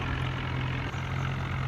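A tractor pulling a loaded trolley chugs steadily on a slope, its diesel engine giving a constant low hum and throb nearby with a brief dip midway.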